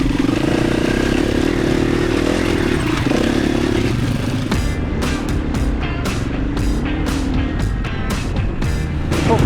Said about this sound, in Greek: Φοβάστε την αρχή, αλλά μετά ανεβαίνει για πλάκα το μηχανάκι.